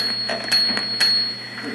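An old bicycle bell from Japan rings in a few short, bright strikes, each with a sharp metallic onset and a lingering high tone, close and fairly loud with a steady low hum underneath.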